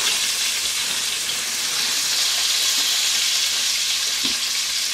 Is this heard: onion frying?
yes